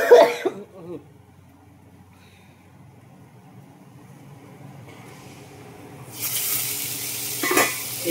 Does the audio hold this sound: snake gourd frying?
yes